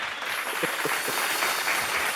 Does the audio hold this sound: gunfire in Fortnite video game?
no